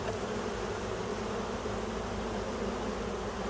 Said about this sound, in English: So we have a lot of bees up here.